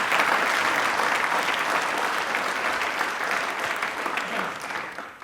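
Sustained, loud applause from a studio audience at a televised quiz show, dense clapping throughout that eases off slightly toward the end.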